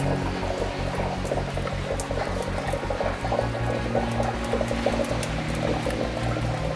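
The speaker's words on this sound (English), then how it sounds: "It's actually raining right now." Rain pattering steadily into a new garden water butt as it fills, a dense continuous patter and trickle with a low rhythmic throb underneath, no voices.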